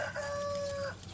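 A single brief, clear call, moderately close, comes from a flock of black mottled Brahma chickens and chicks, heard over a low background murmur.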